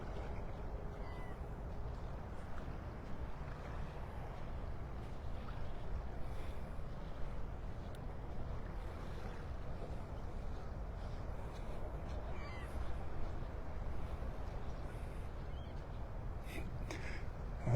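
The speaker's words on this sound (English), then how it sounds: "So those seagulls, noisy rascals." Seagulls call at Clam Pass in Naples, Florida, on an early morning, sporadic cries and squawks rising faintly over a low steady wash of wind and water, no voices.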